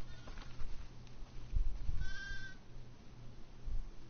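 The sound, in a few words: sheep bleating in a video game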